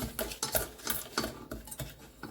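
A spoon stirs half a cup of sugar in a pan as it melts for milk popcorn, making quick, uneven scraping and clinking strokes close to the microphone, with no voices.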